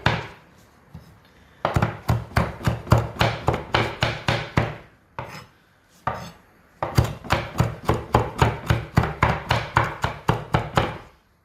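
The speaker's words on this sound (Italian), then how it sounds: "Lo andiamo a battere" A knife chops parsley on a wooden board with fast, rhythmic rocking taps, heard close and fairly loud in two long runs separated by brief pauses.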